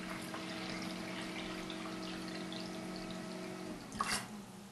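An electric pump runs steadily with a tonal hum while water fills a freshwater reservoir for a marine aquarium, then the motor cuts out near the end with a brief splash and water noise.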